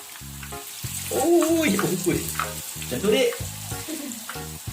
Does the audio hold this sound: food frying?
yes